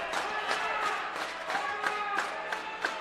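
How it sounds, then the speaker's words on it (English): Spectators at a high school wrestling match between Roseburg and Grants Pass clap together in a steady, evenly spaced rhythm, with a crowd murmur underneath and the claps echoing through the gym. "The traditional clapping from you Roseburg fans."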